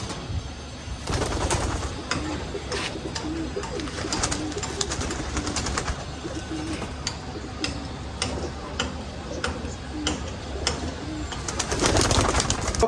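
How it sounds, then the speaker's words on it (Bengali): Pigeons at a loft with squabs being dewormed, with low cooing and frequent sharp ticks and flutters over a steady dense background, no talk. "কবুতরের বাচ্চাগুলিকে আমি কৃমি করানো শুরু করতেছি"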